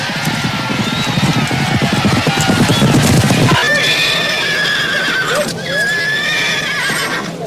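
A horse whinnies loudly in two harmonic neighs over a steady, rhythmic clip-clop of hooves, with the hoofbeats strongest in the first half and continuing faintly beneath the later calls.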